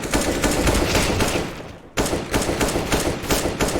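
Rapid tap-fired gunshots in a shooter game, a dense string of loud sharp shots in quick bursts with a brief pause midway, no talking.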